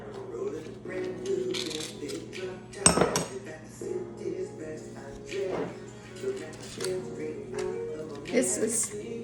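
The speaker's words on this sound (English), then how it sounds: "Mix the hummus." A spoon stirs store-bought Sabra hummus in a small bowl, giving light clinks and scrapes against the dish in short irregular bursts, with one sharper knock, while a person talks over it.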